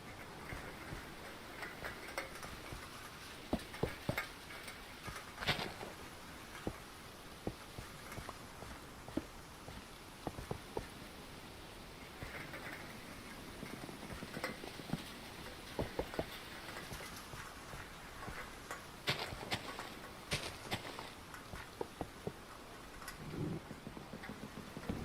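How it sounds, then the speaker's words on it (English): Steady rain patters across a Minecraft server world, a continuous soft hiss with scattered sharp ticks and drips, no talking over it. "hearing this rain reminds me of like ASMR"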